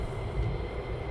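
V-22 Osprey tiltrotor aircraft flying near RAF Lakenheath, a steady, heavy low rumble and drone heard briefly from a distance.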